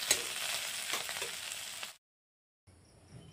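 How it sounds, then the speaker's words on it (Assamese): Potatoes fry with spices in a pan, giving a loud, steady sizzle that cuts out abruptly, then returns more quietly after a short silence. "আলুখিনি মছলাৰ লগত এনেদৰে ভাজি ল'লোঁ"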